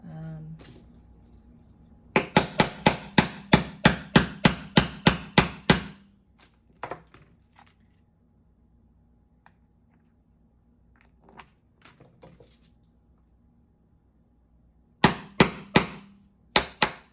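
Sharp hammer blows on a craft piece, a fast run of about ten evenly spaced strikes, then scattered lighter taps and quiet, and a closing burst of several more loud strikes, close and prominent with no talk over them.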